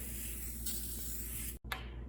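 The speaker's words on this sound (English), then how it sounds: "start with the collar and spray it across until you can see that it is damp" Spray starch hisses from a can onto the collar of a uniform shirt, a steady close spray that stops with a brief gap, then a short final burst.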